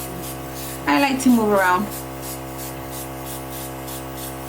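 Airbrush spraying bronze makeup, driven by a Temptu 2.0 compressor, gives a steady, close, airy hiss with a faint regular pulsing throughout; a person briefly talks over it.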